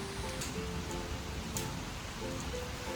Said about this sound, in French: On est rentré d'expédition pile au moment où il pleut.